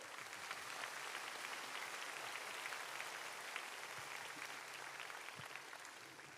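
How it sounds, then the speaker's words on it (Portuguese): Church congregation applauding during a sermon: a steady, faint wash of many hands clapping together, continuous and even throughout with no voices standing out. "Pode aplaudir ao Senhor."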